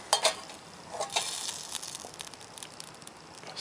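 Meat fat sizzling in a frying pan over a field cooking setup, a close crackle of spits and pops, busiest at the start and then settling into a lighter steady sizzle.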